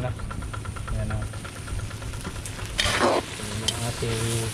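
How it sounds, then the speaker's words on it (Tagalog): A pot of squash cooking on the boil in a rural kitchen, giving a steady bubbling, sizzling hiss with clinking and stirring sounds over a low hum, with a brief louder burst midway. "Kumukulo na."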